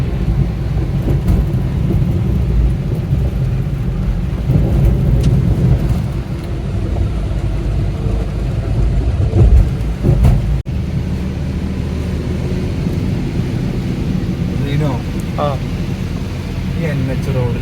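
Heavy rain while driving along a national highway, a dense steady roar of rain and road noise inside the moving vehicle with someone talking over it.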